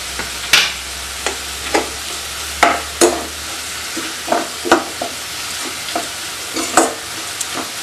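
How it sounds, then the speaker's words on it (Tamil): Onions and chili powder, with kuzhambu or sambar powder, sauté in oil for onion rice. Crisp spoon scrapes and taps land at regular intervals over a constant frying sizzle, close and fairly loud, with no speech. "அந்த நம்ம போட்ட அந்த மிளகாய் பொடியும் எண்ணெயிலேயே கொஞ்சம் வதங்கட்டும்"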